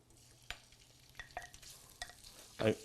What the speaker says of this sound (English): I'm going to add some onions that have been pre-cooked in butter.